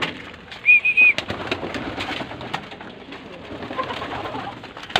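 Racing pigeons arriving home at the loft after a race from Lapas, Tarlac, with a short whistly coo near the start over a busy outdoor background of chatter and bird activity.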